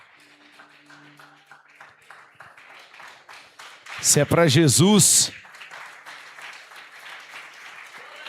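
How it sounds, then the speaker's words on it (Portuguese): A church congregation applauds in a steady wash of clapping beneath a preacher who talks and then shouts loudly over them, the clapping continuing faintly throughout. "Pode se assentar, aplaudindo a Jesus bem forte."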